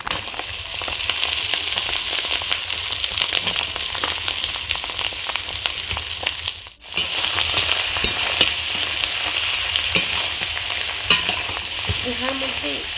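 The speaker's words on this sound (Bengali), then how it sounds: "বেগুনের মধ্যে দিয়ে দেবো একসাথেই ভাজা করবো" Fish roe and brinjal fry together in hot oil with a dense, loud, continuous sizzle and crackle, one short dip midway, and occasional stirring clinks, close up with no voices.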